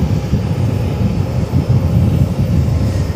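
An Airbus A319 jet departing produces a loud, continuous low rumbling roar with a fluttering texture, steady from start to end.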